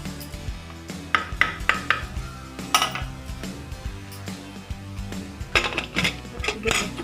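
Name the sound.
putting the lid on a pressure cooker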